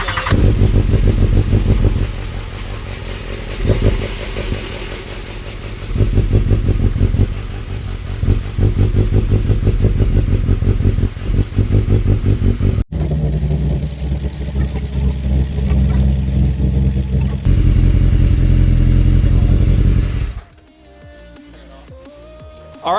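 BMW S1000XR motorcycle engine started and idling after an oil change, a close, loud rhythmic engine drone with some mechanical clatter, shifting character midway before cutting off near the end.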